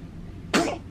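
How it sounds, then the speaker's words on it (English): A newborn baby gives a single short, sharp sneeze that bursts out close and suddenly over quiet room tone. "So many sneezes."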